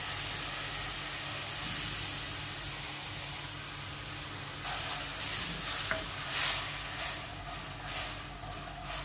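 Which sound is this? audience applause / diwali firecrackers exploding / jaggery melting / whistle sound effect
jaggery melting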